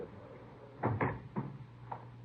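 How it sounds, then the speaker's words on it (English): A door shuts in an office scene of a 1955 radio police drama: a few soft, muffled thumps and a knock-like bump close together over a steady low hum, with no talking. "Close the door, huh?"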